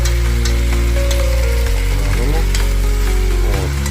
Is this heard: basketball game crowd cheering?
no